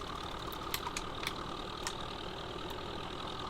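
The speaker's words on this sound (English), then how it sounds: "This tractor does sound good." A tractor engine idling in Farming Simulator 15 produces a faint, steady low drone with a light knocking texture and a few soft clicks on top. It plays alone, with no voices.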